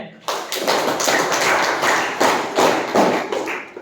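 Schoolchildren in a Kannada-medium science class clap together, with a dense burst of hand claps that rises and falls in several waves over a few seconds, close and fairly loud.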